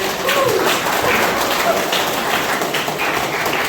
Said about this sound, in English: We all clap our hands.